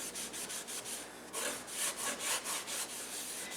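Coarse salt scrubbing a stuck-on mess in a fairly dry cast iron skillet, quiet rhythmic gritty rubbing strokes, close and soft, with no voices.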